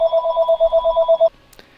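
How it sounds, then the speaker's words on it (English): A telephone rings in a steady electronic warble for just over a second, loud and close, then cuts off, followed by a brief faint click in near silence. "Phone's ringing."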